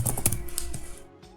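Java code is typed on a computer keyboard in a quick, close run of light key clicks, followed by a short pause and then one or two more taps.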